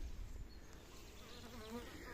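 Honeybees buzz in a dense, steady hum, faint and close, as a crowded hive of Carniolan bees drones without pause.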